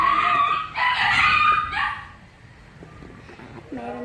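A dog's high yips and whimpering barks come in a few close bursts, then fade to quieter background noise before another short whine at the end.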